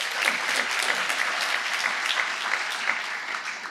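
Steady applause from an audience at a community event, a dense, continuous patter of many hands filling the room at moderate loudness and holding even throughout, with no voices over it.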